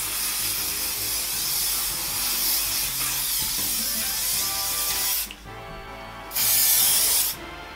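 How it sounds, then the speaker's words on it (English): Aerosol hairspray misted over long hair during a 1940s brush-out styling, a loud steady hiss lasting about five seconds, then a short pause and a second shorter burst. "I'm just going to take some hairspray, spray everything down"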